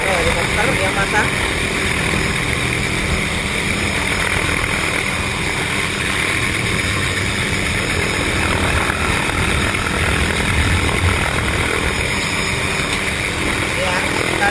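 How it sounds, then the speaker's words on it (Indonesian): A helicopter works on a live high-voltage power transmission line, its rotor and engine producing a loud, steady, unbroken drone that fills the whole stretch without pause. "pakai helikopter yang masang."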